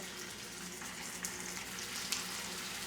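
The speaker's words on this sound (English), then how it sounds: "Have a little bit of a sizzle going on." Steady, bright sizzling of salmon frying in a pan, a continuous hissing crackle with a couple of sharper pops, no talking.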